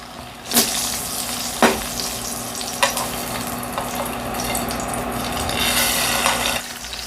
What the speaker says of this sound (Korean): 먼저 기름을 두르고 명란을 구워줍니다. 명란 구울 때 기름이 많이 튀니까 그 점만 조심하시면 됩니다.